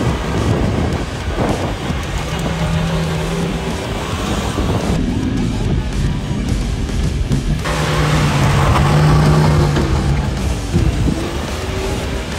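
A Mercedes W123 rally car is driven in a tight circle around a hole on sand, its engine roaring loudly and continuously with rising and falling revs, backed by a broad rumble of tyres and churning sand.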